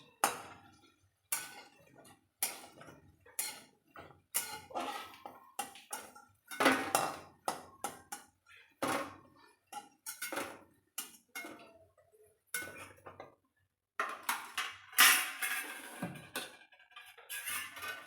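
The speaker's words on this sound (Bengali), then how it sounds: "ডালের বড়া আমার ভাজা হয়ে গেছে আমি বড়াগুলো তুলে নিচ্ছি" Fried lentil dumplings are lifted out of a pan, making a series of light clinks and scrapes of a utensil against metal in an irregular rhythm, close and fairly quiet.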